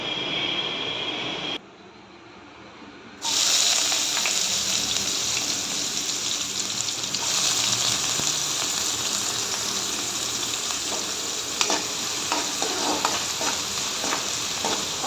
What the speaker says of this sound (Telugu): ఆనియన్స్ అయితే ఇట్లా మంచిగా వేయించుకోవాలన్నమాట